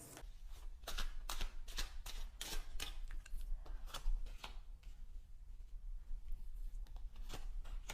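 Tarot cards are shuffled close up in quick repeated bursts of riffling and slapping, with a short rhythmic pause between shuffles.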